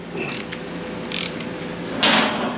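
A hand ratchet works loose the lower shock link bolt on a Honda CRF300L Rally, three short bursts of close metallic clicking with the last burst loudest.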